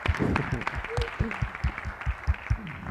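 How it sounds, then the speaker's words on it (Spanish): An audience at a Parkinson's disease talk applauds the specialists with a fairly sparse, uneven patter of claps mixed with low voices and some rhythmic thumps. "Un aplauso"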